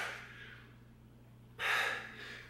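Hard breathing from someone doing a dumbbell shoulder workout at home: a quiet stretch, then a sharp, loud gasping breath that tails off into softer exhales.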